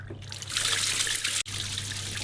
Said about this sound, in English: this is the faucet to empty the grey water